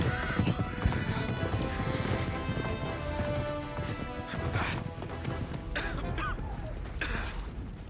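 Hoofbeats of a horse galloping in the Uncharted 3 video game, steady clip-clop over a dense bed of game music and action effects, with occasional creaks and bursts.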